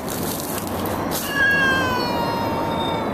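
A stray cat caught in a trap meows loudly and up close, one long drawn-out wailing cry rising over a steady background hum.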